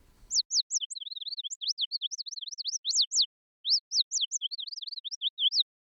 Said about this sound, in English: and there you have bird sound.